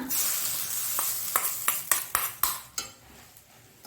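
A spoon scrapes and clinks against a pan while Mangalorean vegetable sukka is stirred, with a run of sharp metallic knocks in a loose rhythm over a faint background hiss.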